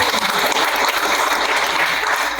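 An audience at a spiritual discourse bursts into dense, loud, sustained clapping that fills the whole moment without pause.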